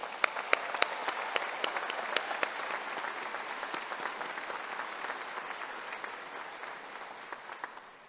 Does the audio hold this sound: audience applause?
yes